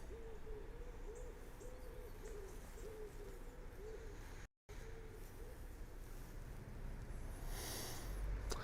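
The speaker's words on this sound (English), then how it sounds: "There's an owl hooting nearby here." A nearby owl hoots in a steady repeated series of soft calls at dawn on Calton Hill in Edinburgh, with a quiet outdoor hum underneath and a brief dropout partway through.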